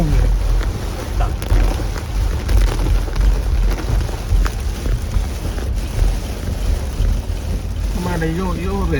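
Heavy rain and gusting typhoon wind roar steadily around a moving car, a dense continuous wash with low rumble, while people talk inside the vehicle throughout.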